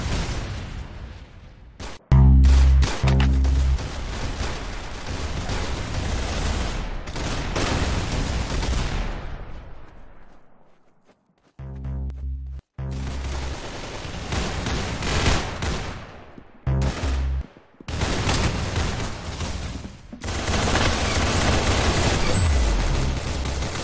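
Sustained automatic gunfire and explosions in the Roblox game Arsenal, loud and nearly continuous, broken by a few abrupt silent gaps, with heavy booming blasts early on and no voices over it.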